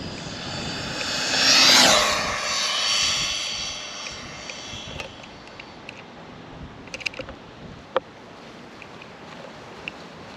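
A Castle 2650kv motor RC car on 3S passes by with a rising and falling high-pitched electric whine, loudest near the start, then fades to distant rattles and clicks.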